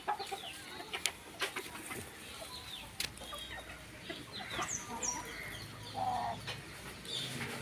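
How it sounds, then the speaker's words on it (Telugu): Outdoor birdsong with wild jungle fowl clucking and cooing nearby, scattered sharp calls and clicks over a quiet background. "ఇవన్నీ కూడా అడవి కోళ్ళు అండి"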